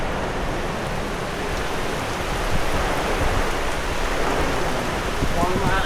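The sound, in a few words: rain falling on an open shelter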